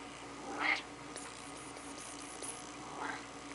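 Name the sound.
cat meowing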